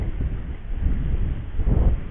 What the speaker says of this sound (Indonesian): Oh anginnya kencang bolo bolo anginnya banter